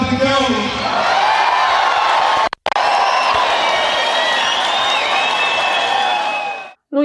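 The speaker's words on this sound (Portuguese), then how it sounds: "pedir uma salva de palmas para o nosso padre Kelmon" Audience at a Brazilian political event saluting Padre Kelmon with a sustained wash of clapping and cheering, loud and steady, with crowd voices and whoops mixed in and a brief cut partway through.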